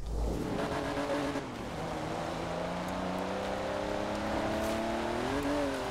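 C-Class car driven in the Forza Horizon 4 racing game, a steady engine drone with rising and falling revs and gear shifts, fairly quiet and continuous, without speech.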